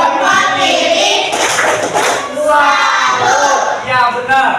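A classroom of pupils performs the "tepuk salur" clapping chant, loud dense clapping and group chanting voices filling the room continuously, with a brief dip in the middle before the next round.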